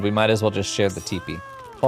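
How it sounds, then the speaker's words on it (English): A cat meows in Final Fantasy XIV, a single drawn-out, rising-and-falling mew heard after people talk, fairly clear and close. "that's a cat"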